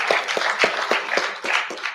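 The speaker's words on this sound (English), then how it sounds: "A round of applause for him." An audience applauds at a conference hall session, giving steady rhythmic clapping with regular beats and crowd applause underneath, close and fairly loud.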